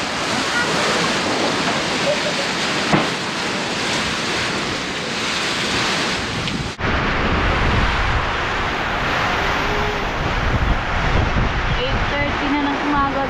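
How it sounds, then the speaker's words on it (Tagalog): Strong typhoon wind in Ilocos Sur roars loudly and continuously, buffeting the microphone with gusts and a surf-like rush throughout, shifting in tone partway through. "Lakas na hangin kasi."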